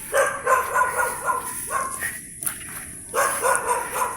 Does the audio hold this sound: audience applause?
no